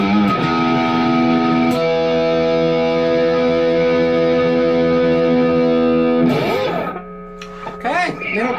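Donner 152s Strat-style electric guitar on its middle pickup position, a sustained strummed chord ringing with distortion and effects for about six seconds, then a few quieter picked notes and a short fresh strum near the end.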